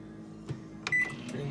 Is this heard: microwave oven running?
yes